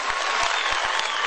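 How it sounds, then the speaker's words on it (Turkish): A concert crowd at a 2015 Liberation Day event in Pozantı bursts into dense, loud applause, sustained clapping filling the whole short stretch with no pause. "Kendinizi kocaman alkışlar mısınız?"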